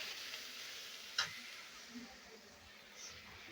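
Ground masala, stone-ground and added to hot oil with bay leaf and onion for a Kerala-style rohu fish curry, sizzles faintly and steadily in the pan, with a brief clink of a utensil near the start.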